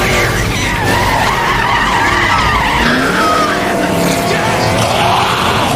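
Race car tires skidding and screeching during a film chase, a loud continuous squeal with sweeping pitch and engine roar that holds steady across the whole stretch, close and dominant.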